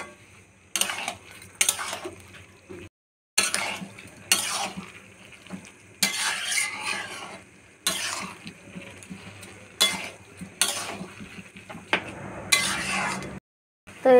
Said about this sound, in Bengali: শ্যামা চালটা দিয়ে নেড়ে নেব।